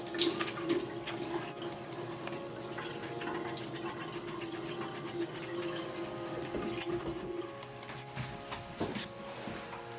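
Tap water runs steadily into a sink while hair is wetted for a home haircut, a close, continuous splashing stream with slight changes as the flow is interrupted near the end.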